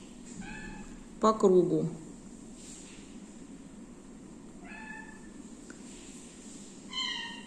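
A house cat meows close by, with several short, tonal mews spread across the moment, while someone talks quietly during a knitting session.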